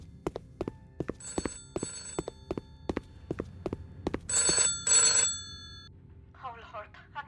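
An old-style telephone bell rings in a motel room in a video game, a sharp repeated ring with regular strikes, then two longer bursts of ringing before a voice talks briefly at the end.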